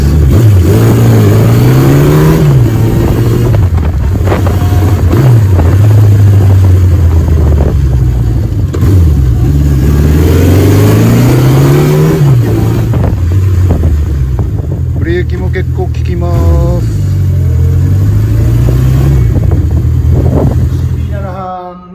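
A custom Honda CB750K4 motorcycle revs repeatedly while being ridden, its engine note climbing and falling in steady cycles under wind rush, with someone talking over it.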